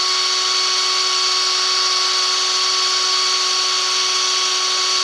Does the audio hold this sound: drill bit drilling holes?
yes